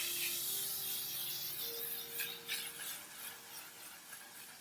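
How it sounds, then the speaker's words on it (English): L'Oreal Infallible 3-Second Setting Mist sprayed toward the face, a close, steady hiss of fine mist that lasts several seconds, with faint mechanical clicks from the pump and no talking. "It is the L'Oreal Infallible 3-Second Setting Mist."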